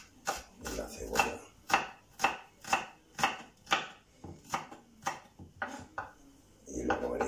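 A knife thinly slices an onion on a board, giving about a dozen evenly spaced crisp chops in a steady rhythm, with a voice speaking at the end.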